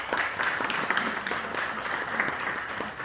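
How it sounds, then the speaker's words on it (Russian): An assembled audience at a school delegation's welcome event applauds visiting teachers, a continuous, moderately loud patter of many hands with faint voices underneath. "Поприветствуем их аплодисментами."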